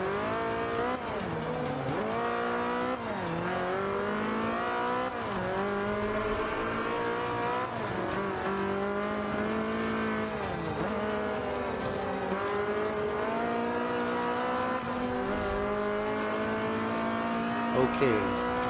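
A race car engine in Forza Motorsport 5 revs and shifts through rising and falling gears continuously, loud and close, with tire squeal and other cars around it.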